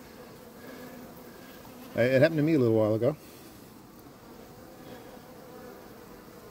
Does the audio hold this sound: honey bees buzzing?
yes